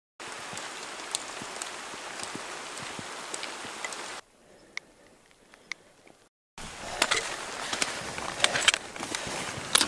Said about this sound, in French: Et bien faut qu'on se tape la pluie comme d'hab pour la fin.